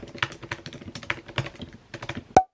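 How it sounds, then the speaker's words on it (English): Rapid computer keyboard typing in quick irregular bursts of clicks, close and fairly loud, with brief pauses between runs and one sharper key strike near the end. "this clip made me realise how fast I type."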